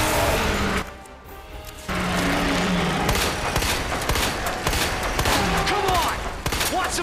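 Loud, rapid gunfire from Resident Evil 2 crackles in dense bursts, breaking off for about a second before the shooting resumes and keeps going to the end.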